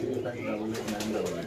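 Pigeons cooing and calling at a busy pigeon market in Meradia bazaar, Khilgaon, Dhaka, a steady murmur of many birds close by under ongoing voices.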